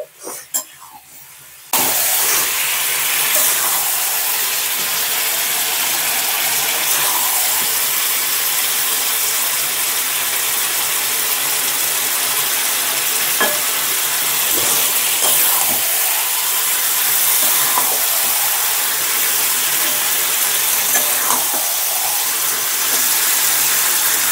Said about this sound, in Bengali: মাংসটা খুব ভালোভাবে কষিয়ে নিয়েছি।